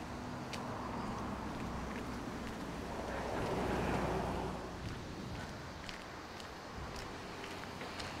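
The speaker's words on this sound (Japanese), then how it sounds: "日本の海って感じだね" Sea waves wash onto a Japanese Pacific shore near Shonan. They make a continuous broadband roar that swells in the middle and then eases, heard at a moderate distance, with wind buffeting the microphone.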